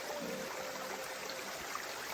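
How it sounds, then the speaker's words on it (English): Mountain creek water runs over a rocky hiking trail on Edmands Path up Mount Eisenhower in New Hampshire's White Mountains, a steady, faint, continuous wash with no talking. "this isn't a trail, this is a creek"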